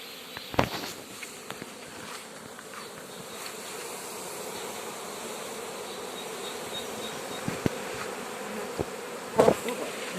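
A swarm of honeybees at an apple tree, a dense, steady buzzing that fills the whole stretch, with a few soft knocks and rustles close by.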